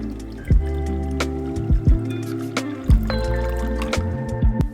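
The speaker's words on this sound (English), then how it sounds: "now I'm going to be pouring a little bit of distilled water into the bowl" Distilled water is poured into a collapsible bowl at close range, a run of bright trickles and drips in short bursts with a few louder splashes, and no voice over it.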